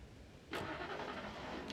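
A car engine in the Alan Wake video game cranks and catches with a sudden burst, then settles into a steady low idle; quiet and brief, with no talking.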